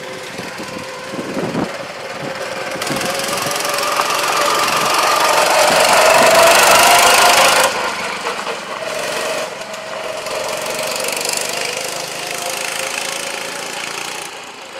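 An old junk homemade tractor's engine runs steadily and loudly throughout, a rough knocking drone with mechanical rattling that swells in the middle and then settles, with no talk.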